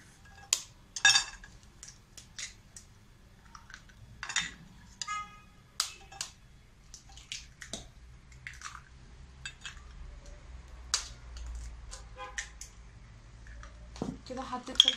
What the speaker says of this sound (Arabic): هكسر 3 بيضات